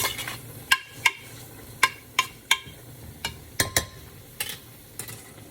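Vegetables seasoned with onion powder sizzle gently while sautéing in a soup pot for minestrone, with a utensil scraping and clinking against the metal at irregular intervals over a soft, continuous fry.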